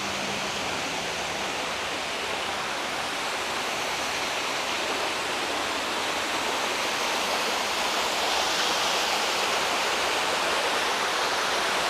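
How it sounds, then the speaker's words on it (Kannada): Ethina Hole waterfall on the Shiradi Ghat road cascades in a loud, steady, close roar of rushing water that holds unbroken throughout, with no voices. "ಇಲ್ಲಿ ಒಂದು ಜಲಪಾತ ಇದೆ"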